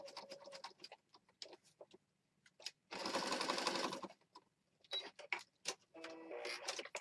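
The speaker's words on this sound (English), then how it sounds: "I think I'm going to go ahead and stitch up this way." A sewing machine stitches through a paper Christmas mini journal in a loud, whirring one-second burst, followed later by a second shorter run, with scattered clicks and light handling noises between.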